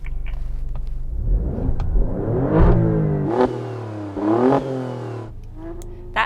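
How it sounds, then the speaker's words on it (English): An Alfa Romeo Stelvio QV SUV, held stationary, gives a series of loud, close revs: several rising and falling engine sweeps over a deep idle rumble, with no voices. "Let's hear the Alfa first. Go on, Mum, rev it up."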